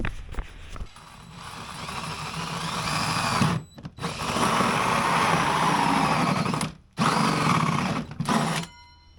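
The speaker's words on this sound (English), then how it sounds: "So I am going to cut a little half moon in the back of the bumper here with a hole saw." A hole saw on a power drill cuts a half-moon notch into the back of a car bumper on a lifted Nissan Pathfinder, whining loudly and steadily through long cutting bursts with two brief stops.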